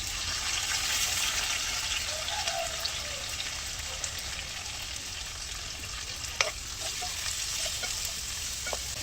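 Sliced onions and green chillies frying in oil in a pan for a gongura curry with dried fish, giving a steady, even sizzle throughout with a few sharp clicks of the stirring spoon, close up and without talk.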